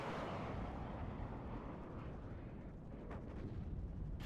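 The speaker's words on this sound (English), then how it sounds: "Using my mortars to put constant fire on this tree line." Mortar fire in the real-time strategy game WARNO pounds a tree line, a continuous loud roar of overlapping explosions and rumble with no gaps, and no voices heard.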